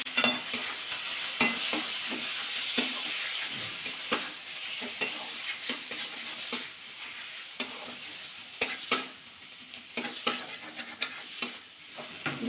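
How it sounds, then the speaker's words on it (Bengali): Onion, ginger, spices, chili powders and tomato sizzle steadily in a pan while a spatula scrapes and stirs in repeated strokes, close and fairly quiet. "ভালোভাবে মশলাটা কষিয়ে নেব।"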